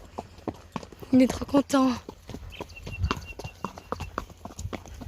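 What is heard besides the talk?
horse hooves clip-clopping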